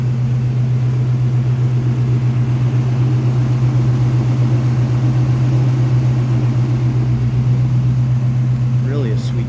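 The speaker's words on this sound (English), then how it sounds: "Engine runs like a top." A 1987 GMC R1500 Sierra Classic pickup idles steadily with a smooth, even low rumble, close and constant, while someone talks over it.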